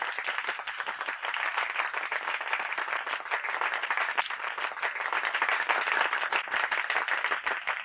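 Applause from a group in a Marathi film scene, a steady crowd of hands clapping continuously at moderate volume, dense and even without pause for several seconds.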